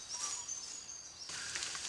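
Birds chirp and sing faintly in the outdoor background, with thin high whistles and a brief burst of insect-like buzzing, no one speaking.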